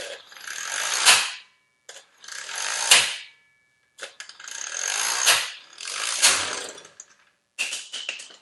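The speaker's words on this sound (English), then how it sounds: "I have not loosened these lug nuts, but since this is an impact, it should still take them off." Cordless 12V impact wrench from a car jack kit working car lug nuts off a wheel, firing in several long rattling bursts of hammering with short silent pauses between them, loud and close, with no talking.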